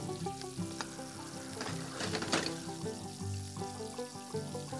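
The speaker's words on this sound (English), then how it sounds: "Let's start with adding our onions," Onions, ginger and garlic frying in a pan, a continuous soft sizzle with some stirring clatter, heard under steady background music.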